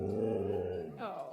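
A dog with a freshly cut coat gives a low, close growl that rumbles steadily, ending in a brief higher whine-like yip.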